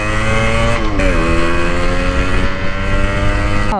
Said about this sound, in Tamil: இதுதான் அப்படியே முறுக்கி விட்டனா Don Don Don Don sound தான் லவ் பண்ணுவோம் அதிகமாக